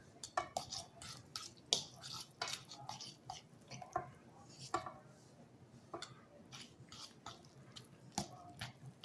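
Flour, onions, chives and salt are stirred into an olive-oil mixture to make bun dough, producing irregular close taps, clicks and soft scraping of a utensil against a bowl, quiet and continuous.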